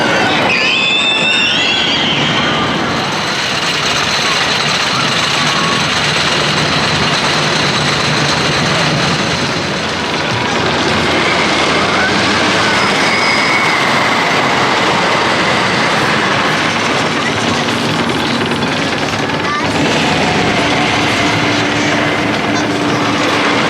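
Wicker Man, a wooden roller coaster at Alton Towers, roars loudly and steadily through a long run, with a rumbling, rattling ride noise that holds for nearly the whole stretch and no talk over it.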